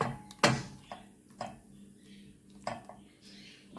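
A metal spoon scrapes and taps in a pan of baş kavurması sauce with several irregular clinks and brief scrapes, fairly close and moderately loud against a quiet kitchen background.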